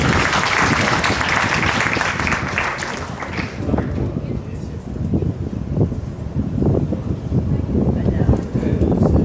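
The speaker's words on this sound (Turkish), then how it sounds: "Alkış alalım arkadaşlar." Applause at a graduation day ceremony, loud dense clapping that fades after a few seconds into scattered claps, wind-like rumble and voices.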